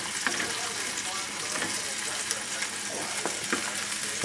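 Cooked arborio rice being stirred in a hot pan with pecorino romano cheese, a steady close frying sizzle with scattered scraping clicks from the spoon over a few seconds.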